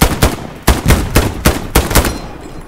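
Gunfire in Hell Let Loose: about six loud, close, sharp shots spaced in a fairly steady rhythm, each with a short crack and tail, ending in a brief quiet.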